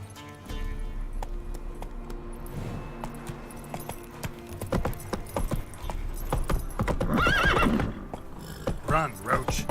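Roach the horse in Witcher 3, with hoofbeats clip-clopping under a whinny and snorts, plus jangling tack, while a voice talks over it.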